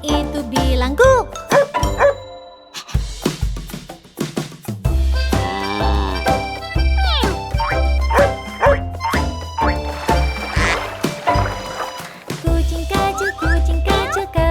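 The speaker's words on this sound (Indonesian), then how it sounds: "Lihat anjing itu bilang, "Guk."" A dog bark sound plays within a lively Indonesian children's song about a little cat and animal friends, its "woof" woven among sung vocals, bells and bouncy instrumental backing.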